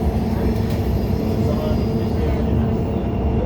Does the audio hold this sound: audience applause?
no